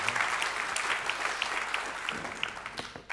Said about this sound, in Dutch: Applaus, beste mensen.